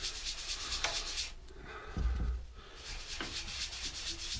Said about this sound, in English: Now better give this a coat of Yorkshire Grit.